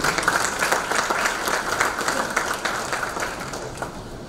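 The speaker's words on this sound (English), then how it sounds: "I think that we all deserve the applause" Audience applause closing a defence and strategic studies technical session at an academic conference, a loud, even patter of many clapping hands that carries steadily throughout and eases slightly toward the end.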